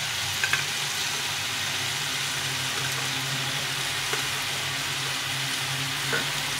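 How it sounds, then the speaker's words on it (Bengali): Onion stalks are added to a small-fish morola chorchori cooking in a pan, giving a loud, continuous, even sizzle with no voices. "এখন আমি এই পেঁয়াজ কুলিগুলো দিয়ে দেবো"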